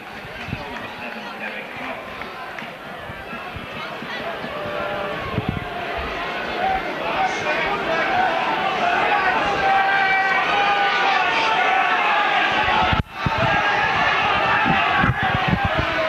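Crowd at a St Helens versus Featherstone Rovers rugby league match in the 1988-89 Stones Bitter Championship, a loud sustained roar of cheering that swells steadily, with a commentator speaking over it.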